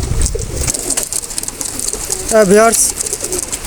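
A Teddy pigeon coos once, a short warbling call rising over steady background noise, with a brief snatch of speech nearby.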